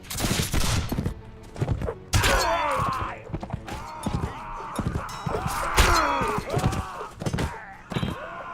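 Gunfire volley in the video game Mount & Blade: With Fire and Sword: a rapid cluster of loud shots crackles at the start, followed by repeated thuds and clashes of battle with voices groaning and shouting through the scene.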